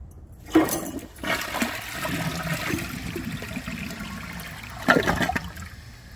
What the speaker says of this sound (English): So let's give this a flush and see how it does on tests.